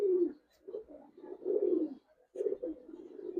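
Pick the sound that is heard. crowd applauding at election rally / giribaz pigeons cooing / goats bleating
giribaz pigeons cooing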